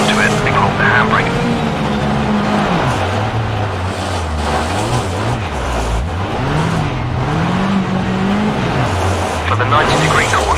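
Rally car engine in Richard Burns Rally, loud and continuous as it rises and dips in pitch through a handbrake turn into a hairpin, with a brief tyre scrub, no talk.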